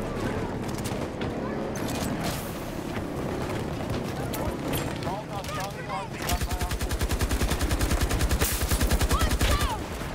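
RPT-31 light machine gun firing in Battlefield 2042, scattered shots and distant battle noise giving way to a loud, rapid sustained burst of automatic fire, with a voice talking over it.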